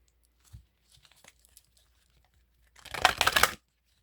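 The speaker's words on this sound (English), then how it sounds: "I'm going to do a quick shuffle here before I clear the energy." Tarot cards shuffled, a few soft scattered taps and flicks, then a quick close burst of crisp riffling and crinkling lasting under a second before stopping.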